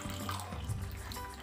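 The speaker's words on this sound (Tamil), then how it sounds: "இந்த கத்திரிக்காய் வேகிறதுக்காக இதுக்கு தண்ணி சேர்த்துக்கலாம்." Water is poured into a pan of Tamil brinjal and chickpea tamarind curry (kathirikai kondaikadalai puli kuzhambu), giving a brief, soft, steady splash and trickle up close.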